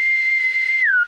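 A person whistles by mouth in imitation of the Navy's captain-aboard pipe call: one loud, steady, held note that glides down at the end and stops abruptly, about a second long.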